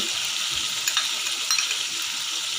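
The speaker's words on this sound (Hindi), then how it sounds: "टमाटर फ्राई हो रहे हैं।" Peeled, chopped tomatoes fry in oil in a pan for achar gosht, a steady bright hissing sizzle heard close up and without a break. Nobody talks.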